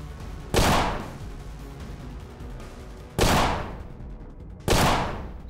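Gunshots in the Colony Ship video game, fired in a turn-based fight: three loud, separate blasts, each with a long decaying tail, spaced a couple of seconds apart over a low ambient bed.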